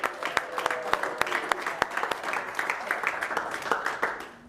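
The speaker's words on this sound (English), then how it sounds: "give yourself a big round of applause." Participants at a stock market trading course applaud themselves, with crisp, individually distinct claps in a steady, moderately loud round that eases off at the close.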